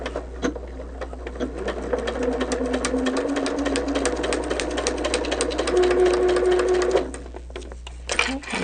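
Sewing machine running a short back stitch, a close rapid mechanical whirring chatter with a rising motor whine, sustained for several seconds before stopping, with faint voice around it.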